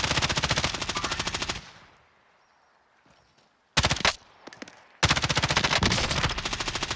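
Rapid automatic gunfire in the video game Call of Duty: Warzone, loud and close, as two long sustained bursts separated by a quiet gap holding a few brief shots, with no talking.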